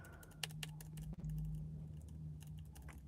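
Computer keyboard keys tapped in an irregular, fairly close typing rhythm over a low steady electrical hum, during a macOS install, with no talking.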